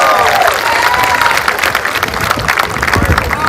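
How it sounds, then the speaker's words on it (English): A high school graduation crowd applauds the senior class president, loud dense clapping mixed with cheers and shouts from the audience, sustained throughout with some voices rising above it. "Let's give the senior class president one more round of applause"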